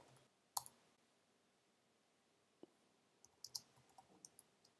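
A few faint, scattered clicks from a computer keyboard as a short command is typed, with one sharper click early and a small cluster of light keystrokes near the end in an otherwise quiet room.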